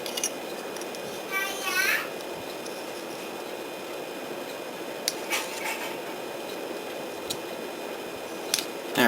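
Plastic parts of a Tamiya Honda Fit model kit are clipped from their sprue gates, with a few sharp, close snips standing out over a steady background hiss.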